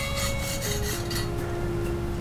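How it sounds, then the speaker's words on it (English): A hacksaw cuts through a hexagon metal rod down to a drilled 5/8 inch hole, forming a rotisserie spit saddle for an offset smoker; close, steady rasping strokes with no talking. "I'll then cut down to the hole with a hacksaw."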